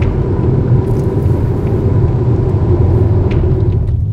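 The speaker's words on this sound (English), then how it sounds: "So I'm going to turn this car around and we'll give it some more speed." A 2016 Audi S7 on the road, its engine and tire roar a steady, loud rumble throughout with no pause, the car driving at speed close to the microphone.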